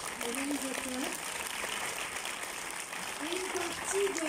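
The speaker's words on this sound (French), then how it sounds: "Sous un tonnerre d'applaudissements, s'il vous plaît, Monsieur Nicolas Couch, organisateur," Audience clapping at a French film premiere in a theatre, a steady patter of applause continuing throughout, with a voice faintly audible over it.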